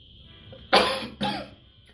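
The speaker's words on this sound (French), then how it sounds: "Excusez-moi s'il vous plaît, j'ai une petite toux là aujourd'hui" Two short, sharp coughs from one person close by, the first louder and the second following about half a second later, with quiet room tone around them.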